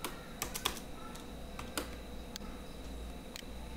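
Fingers tap a computer keyboard in scattered, irregular keystrokes, close and fairly quiet against a low steady background hum.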